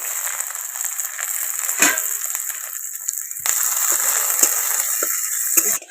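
Bay leaves and spices frying in hot mustard oil in a wok, a continuous bright sizzle with a few soft clatters as the pan is stirred.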